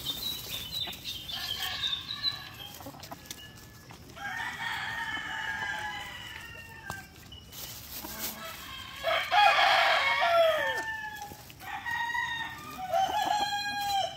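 Asil and shamo chickens cluck in scattered bursts while a rooster crows loudly a few times, close by, with no talking.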